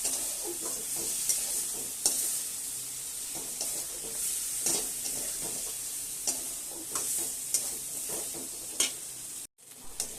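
Brinjal being stirred and fried in a roasted mustard paste, with a steady sizzle and repeated scraping strokes of a spoon in the pan, close and continuous.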